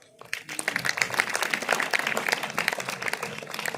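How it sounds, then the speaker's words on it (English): An audience applauds after a student's speech, clapping that starts quickly and builds into dense, steady applause. "A big round of applause for Vaishnavi."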